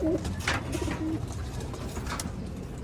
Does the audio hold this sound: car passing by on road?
no